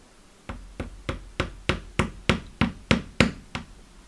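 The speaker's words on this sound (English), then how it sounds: "Just going to take the hammer, just tap it in," A hammer taps a needle into thin metal, about eleven sharp, evenly spaced knocks, close and fairly loud, in a steady rhythm.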